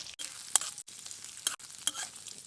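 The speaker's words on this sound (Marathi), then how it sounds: "कांदा परतलाय" Onions sauté in oil in a wok over a wood-fired stove, a soft continuous sizzle broken by a few sharp scraping stirs, close and without talk.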